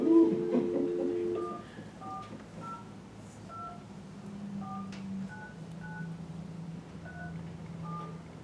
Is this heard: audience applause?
no